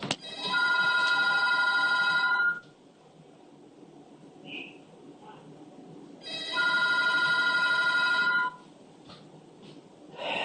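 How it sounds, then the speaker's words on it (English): A telephone rings in two long electronic trills separated by a quiet pause, with faint breathing and room noise between rings. "Phone's ringing."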